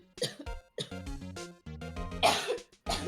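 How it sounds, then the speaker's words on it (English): Repeated harsh coughs burst out in a video game setting, several sharp hacking fits separated by short pauses, with a throat-clearing quality and musical tones between them. "The cough spreads."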